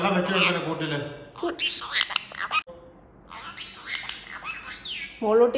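A caged parrot's squawky, voice-like calls come close and clear in several bursts with short pauses, mimicking speech.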